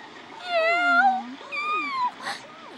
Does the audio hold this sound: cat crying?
yes